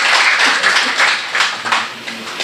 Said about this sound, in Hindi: इस बात पर आप लोग तालियां बजाएं हाजी साहब के लिए और इरशाद साहब के।